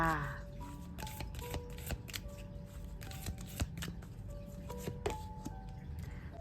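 A deck of tarot cards shuffled close up, a rapid flutter of riffling card edges with sharp snaps throughout, while someone speaks briefly at the start.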